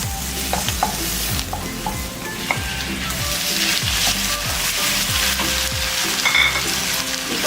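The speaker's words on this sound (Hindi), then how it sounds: "इसको तब तक भूनेंगे जब तक इसका कलर पिंक से व्हाइट नहीं हो जाता" Chicken frying in a pan with garlic ginger paste, a steady close sizzle with repeated rhythmic scraping of a spoon stirring through, and no voices.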